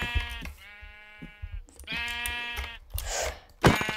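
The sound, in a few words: sheep bleating in a video game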